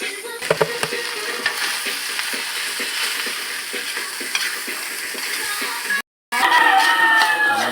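Rice is stir-fried into sinangag in a pan for breakfast on a farm, giving a continuous sizzle with frequent scraping stirs. The sound drops out briefly near the end.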